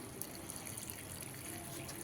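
Water splashing steadily onto grape plants in a garden near a road, an even, close wash of liquid running for the whole stretch with no talk over it.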